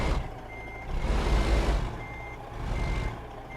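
A truck in American Truck Simulator gives off loud, evenly spaced reversing beeps over the steady rumble of its idling engine, with no one speaking.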